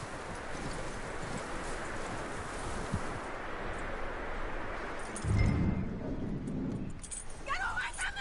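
Horse hooves clip-clopping in the video game Red Dead Redemption 2, a steady stream of hoofbeats with jangling tack, moderately close, followed by a louder thump and some faint voices near the end.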